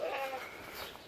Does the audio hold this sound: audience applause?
no